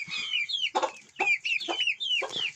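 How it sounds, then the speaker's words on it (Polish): Two young roosters cluck and call in short bursts, close by, with a few brief louder squawks between the chatter. "No, dwa koguty."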